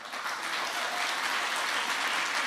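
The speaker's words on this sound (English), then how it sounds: "How could you clap at this guy?" Crowd at a political speech in Auburn, Washington breaks into applause, a thick, continuous roar of clapping from many hands that holds loud and steady throughout.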